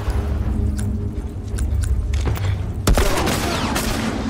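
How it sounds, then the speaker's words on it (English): Gunfire in The Last of Us, a dense run of game gunshots with several sharp cracks and a louder bang near the end, heard over a constant low rumble of game sound. "Oh my god, I'm being shot by someone."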